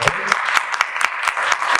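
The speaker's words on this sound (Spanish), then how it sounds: "Un aplauso para él, por favor." Applause from a seated audience at a panel discussion in Spanish on hydrocarbons and mining, welcoming a union leader; steady, close clapping fills the short moment with no talk over it.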